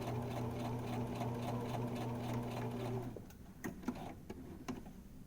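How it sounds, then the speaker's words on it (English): A sewing machine runs steadily forward while stitching a zipper into fabric, a loud continuous motor whir for about three seconds, then it stops and a few soft clicks and handling taps follow. "I'm going to sew forward, and I'm going to sew up till I get to the mark I made."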